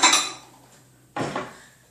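A small flat plate is plopped on top of a large mug to cover it before microwaving: two sharp ceramic clinks about a second apart, each ringing briefly and then decaying, close and moderately loud.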